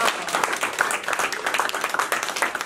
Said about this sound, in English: let's clap it up for Roro.